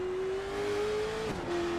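A race car engine in the iRacing sim at Langley Speedway holds a steady drone, then dips and wavers as the car spins out and loops toward the inside wall, with a brief scrubbing burst before the tone settles again.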